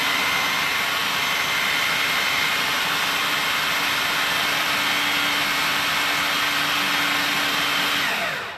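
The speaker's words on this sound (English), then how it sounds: "blend it into a food processor or a hand mixer if you don't have a food" A food processor blends cauliflower into a smooth keto mash, giving a loud, steady motor whir that runs without pause for the whole stretch, with no talking over it.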